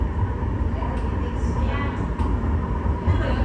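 An LRT-1 light rail train approaching PITX Station rumbles steadily from inside the car, with a constant low rolling roar and faint squeals while a voice announces the stop over it.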